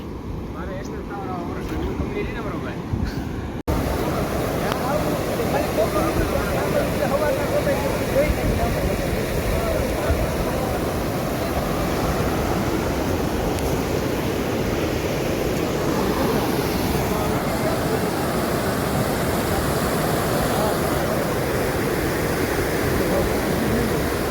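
The overflowing Rojki river rushes over a road in a loud, continuous roar that fills the scene without pause, with faint wind noise at the start.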